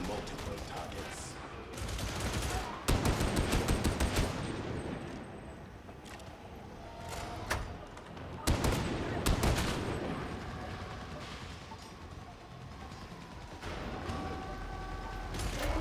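Gunfire from the video game Darktide, dense bursts of rapid automatic shots and heavier booms coming in waves, loud and close, with quieter stretches of game noise between volleys.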